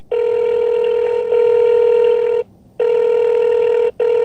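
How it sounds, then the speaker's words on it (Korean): A telephone ringback tone after redialing a call to a designated-driver customer: loud steady electronic tone bursts, one long ring, a short gap, then a second ring broken by a brief pause. "다시 한번 재다이얼을 해보겠습니다."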